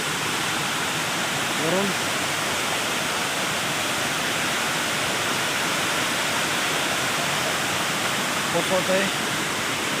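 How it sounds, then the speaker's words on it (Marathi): Aadoshi waterfall at Khopoli, a constant loud, dense roar of falling water filling the whole stretch, with a voice speaking briefly and faintly beneath it. "आणि हा वॉटरफॉल"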